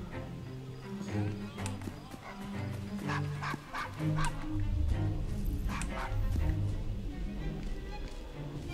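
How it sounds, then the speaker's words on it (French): A dog barks and yips several times in the Assassin's Creed Syndicate video game, set in Victorian London, with horse-drawn carriage clatter and game sounds around it and speech woven through. "Joli chien."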